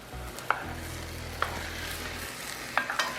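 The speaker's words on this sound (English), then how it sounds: "Get the potatoes in there, get them mixed around, stirred around in there." Potato chunks being stirred into a pot of bacon cheeseburger soup, with a low simmering bubble under a few clinking knocks of a spoon against the pot. Close and fairly quiet, with no talking.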